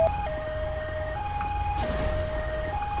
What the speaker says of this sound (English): Right, let's turn the siren off.